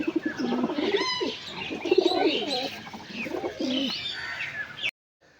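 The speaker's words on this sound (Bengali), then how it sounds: "নর পায়রা" Male pigeons coo and warble in overlapping, throaty phrases close by, with brief chirpy notes, before the sound cuts off abruptly.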